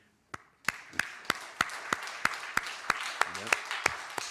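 Church congregation clapping in a steady rhythm, about a dozen even, sharp claps in a row, quiet and fairly close, getting slightly denser toward the end.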